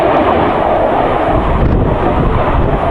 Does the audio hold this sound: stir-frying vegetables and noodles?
no